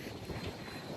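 Strong wind sweeps across the open deck of a Crystal Cruises ship, a steady, dense rush buffeting the microphone with no break and no talk.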